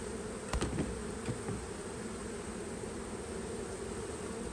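Honey bees buzz around an open hive in a steady, moderately faint drone, with a few brief knocks early on.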